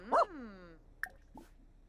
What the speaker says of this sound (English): Stop whining, dog.